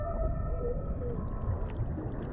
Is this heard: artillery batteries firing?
no